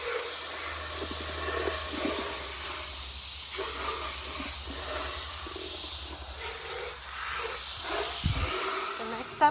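A garden hose sprays water over trays of freshly sown squash seeds, giving a steady, even hiss that runs throughout, with a faint bump near the end.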